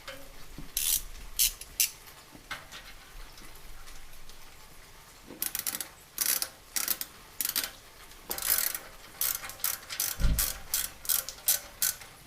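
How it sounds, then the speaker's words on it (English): Ratchet clicking in short repeated bursts while tightening an exhaust clamp on a 2018 Harley-Davidson Road Glide Special fitted with Cobra Neighbor Haters exhaust, close and crisp with pauses between strokes. "So all right, we'll tighten up this clamp up here."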